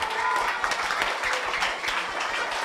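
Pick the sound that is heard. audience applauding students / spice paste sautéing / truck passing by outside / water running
audience applauding students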